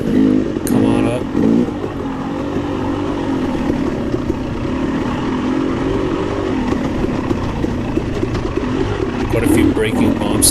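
A KTM 300 XC-W two-stroke dirt bike works hard through a fast section of a hare scramble race course. The engine drones steadily and close throughout, with rising and falling pitch as it dips and climbs, and a voice talks over it.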